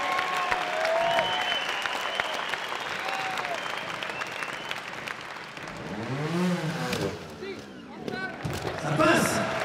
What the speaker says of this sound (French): Vous pouvez l'applaudir à Jérôme Fajardo.